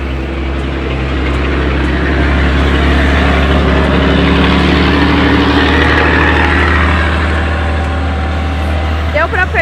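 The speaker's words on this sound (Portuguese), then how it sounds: "Deu pra perceber que o asfalto passa aqui do lado pelo barulho dos caminhões." Heavy trucks roll along a nearby asphalt road, a loud, steady rumble with a deep low hum that persists throughout, with no clear break between passes.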